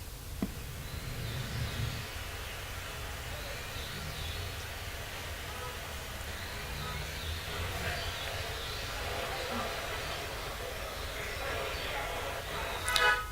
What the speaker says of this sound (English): A city in the bush might sound like this.